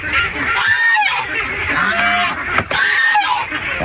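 Ducks on a Philippine duck farm give loud, close, nasal quacking and honking calls that overlap in quick succession throughout.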